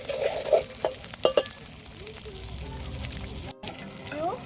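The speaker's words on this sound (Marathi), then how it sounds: "फक्त तेलात एक ते दोन मिनटं मस्त वटाणे असे भाजून घेऊ तेलात फ्राय करून घेऊ" Green peas frying in oil in a pan for a village-style pea rice, with stirring scrapes and knocks early and a low sizzle underneath, fairly close.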